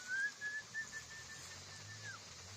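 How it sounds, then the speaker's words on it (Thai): A person whistles on request inside a cave, one long thin steady tone that slides down at the end after a few short breathy starts, heard alone and fairly faint. "ผิวปากหน่อยผิวปากจำหน่อยครับ"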